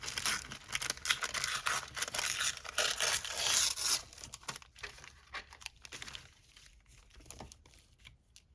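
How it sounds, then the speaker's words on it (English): Paper is torn and crinkled by hand to make a junk journal cover, with close, loud rasping rips for the first few seconds that then break into scattered softer crackles and crumples. "I'm thinking to put this on here, but sort of rip it."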